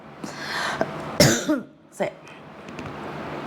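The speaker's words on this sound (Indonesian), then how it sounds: "Aku batuk rek" A few harsh coughs and throat-clearing bursts close to the listener, mixed with a speaking voice over steady background noise.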